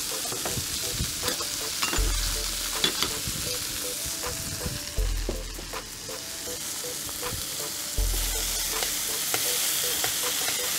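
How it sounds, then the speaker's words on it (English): Anchovies fry in a pan as a steady sizzle with bubbling hiss, and periodic stirring scrapes and soft clinks cut through, close and continuous with no voices. "I like to put them on a corner of the pan so they fry off and melt and form the sauce."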